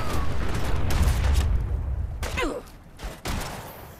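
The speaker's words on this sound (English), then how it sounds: "Who's shooting me?" Gunfire in the video game Fallout 4 arrives as a loud, rapid fusillade of shots and booms in the first half, then thins to a few scattered cracks.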